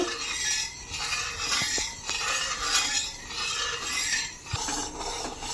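Jackfruit juice boils in a pan as it is stirred for jaggery, giving steady metal scraping and clinking with a bubbling hiss underneath, close and continuous with no speech.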